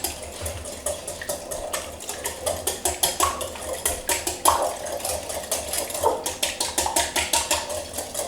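An egg whisked by hand in a bowl for a chocolate peanut butter lava cake: quick, even clinking strokes, about two or three a second, close and steady throughout.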